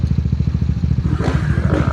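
A motorcycle idles close by with a fast, lumpy, pulsing thump, then gets a couple of short revs as it is ridden into a parking spot in the Antipolo area.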